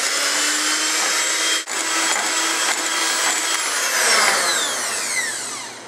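An electric mixer whips meringue with lemon juice and vanilla toward stiff peaks, a loud steady motor whine close by with a brief dip partway and a shifting pitch as the beaters work through the mixture.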